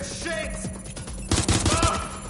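A suspect's gunfire in Watch Dogs Legion comes as a fast, evenly spaced burst of loud shots in the second half, following a stretch of game noise and voices.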